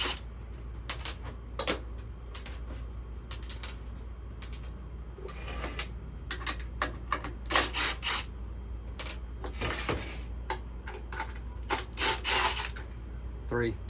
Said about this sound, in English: Take these two 8mm bolts out.